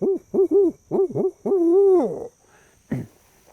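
A great horned owl hoots at night in foggy woodland near a cypress dome. A rhythmic run of deep, resonant hoots ends in a long drawn-out call, then one last short hoot, clear and fairly close in quiet surroundings.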